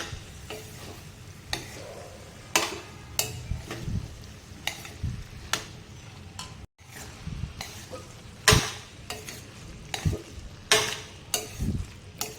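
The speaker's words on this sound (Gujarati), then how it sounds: "આપણે તેમાં પાસ્તા ઉમેરી દઈશું સારી રીતે હવે પાછા મિક્સ કરી લેવા" Pasta is stirred and mixed into gravy in a pan, producing a run of irregular scrapes, clinks and wet shuffling sounds over a low sizzle, close and moderately loud.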